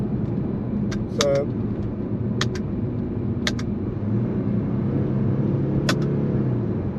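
A Jaguar XJ X351 engine revs up through the gears in manual mode, a steady low rumble that rises under the driver's intermittent talk from inside the cabin.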